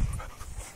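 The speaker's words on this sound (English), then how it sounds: "Ozzy, the black dog, is going to do it for Larissa" A black dog pants close by, quick rhythmic breaths over less than a second.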